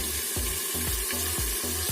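Chicken pieces frying in a covered pan: a continuous loud sizzle with rhythmic scraping pulses roughly every half second as the meat is moved, no voices.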